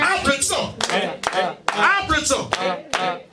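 A gathering at a Sabbath celebration breaks into loud, irregular clapping, sharp rhythmic bursts of applause close by, with voices mingling through it.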